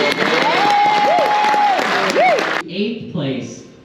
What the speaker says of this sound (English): Let's give a round of applause in 9th place, Joel Frank, Paul Frank, and Joey Carey